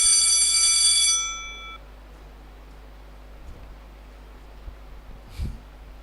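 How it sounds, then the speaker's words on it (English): A quiz-contest buzzer bell rings once, loud and bright, for about a second, then fades into a quiet hall with faint murmurs. "Dombo, did you ring your bell?"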